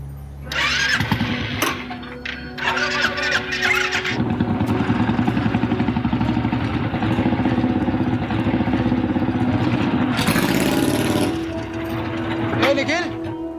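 A new motorcycle's engine starts and settles into a steady, close idle, with a throttle blip partway through and people talking over it.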